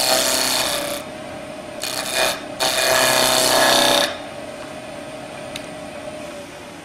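A skew chisel shaves a wood pommel spinning on a lathe, giving two loud rasping cutting bursts over a steady motor hum that carries on alone afterward.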